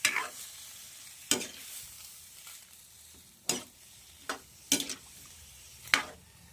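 Squid frying in a pan gives a steady hiss and sizzle. Several sharp clinks and scrapes from a utensil break in at irregular intervals, with no talk.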